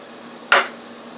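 A flour-dredged cube steak drops into a frying pan of hot oil, giving one sharp near slap and hiss that fades over half a second, with no talk.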